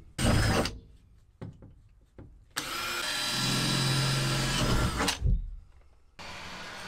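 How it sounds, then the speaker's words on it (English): Drill boring through the metal body panel of a Vauxhall Vivaro van being converted into a campervan: a short whine, a few clunks, then a loud, sustained drilling roar lasting roughly two and a half seconds, ending with a knock and a brief burst. "I believe the procedure here is to drill through here and then mark it on the outside and jigsaw around."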